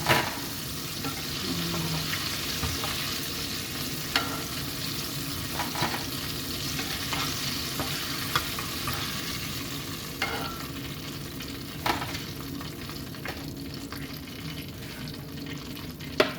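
Chicken wings fry in hot oil with a steady, close crackling sizzle that runs throughout, with occasional light clinks and stirring sounds rising above it. No one speaks.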